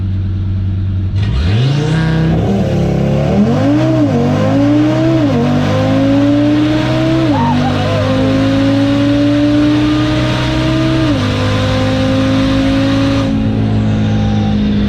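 A tuned 9-second Audi RS3 launching in a drag race, its engine loud and close, rising through several gear changes with a rhythmic climb in pitch, then holding a high steady drone before the sound cuts off.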